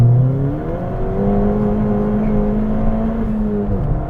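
A stage 2 tuned Ford Fiesta ST with about 250 bhp accelerating hard, its engine droning loudly and rising steadily in pitch through the gears, heard from inside the car with no talking.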